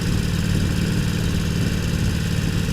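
A Harley-Davidson Roadster motorcycle engine runs steadily, a constant low rumble at a near distance, loud and unbroken throughout with no talking.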